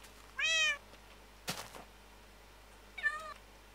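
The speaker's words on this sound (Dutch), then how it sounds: "Wat doet mijn kat hier?" A tamed cat in Minecraft gives two distinct meows, one near the start and one near the end, with a brief thunk or knock sounding between them and quiet gaps all around.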